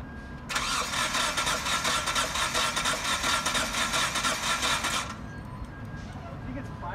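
The engine of a 1994 Mitsubishi Montero, abandoned in the Arizona sun, cranks loudly and up close on the starter. One steady, rhythmic churning burst lasts about four and a half seconds, then cuts off to a quiet background.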